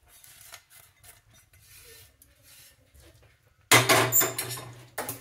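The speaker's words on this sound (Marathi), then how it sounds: "आणि स्पॅच्युलानेच पसरवून घेऊया" A spatula spreading hot peanut chikki mixture over baking paper: faint soft scraping at first, then louder rasping scrapes and knocks of the metal spatula on the pan.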